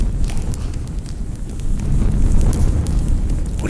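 Fires in the video game Ghost of a Tale, a loud steady roar and rush like strong wind, with faint crackles and taps scattered through it and no talk.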